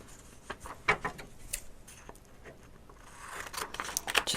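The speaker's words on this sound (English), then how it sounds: "I'll just cut it out using the scissors" Scissors snip through paper while trimming a junk journal envelope, a run of quick, crisp cuts with short pauses between them, close and moderately loud with no one speaking.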